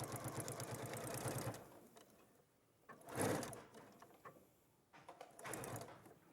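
A sewing machine runs through fabric in a short, rapid stitching burst. Quieter bursts of stitching follow after pauses, all at a low, close level.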